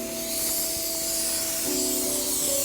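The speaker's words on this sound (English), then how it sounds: "Spray it on the veggies," A steady olive oil aerosol spray hisses continuously at close range onto vegetables, with a faint tonal hum running underneath throughout.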